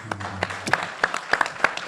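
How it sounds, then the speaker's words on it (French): An audience at a press event for an album release claps, scattered sharp hand claps at an uneven pace over a thin background of clapping, moderately quiet. "Est-ce qu'on peut l'applaudir?"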